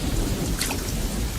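Heavy anime rainfall hisses steadily while a thunder rumble rolls underneath, with a brighter crack of thunder midway, loud and enveloping with no voices.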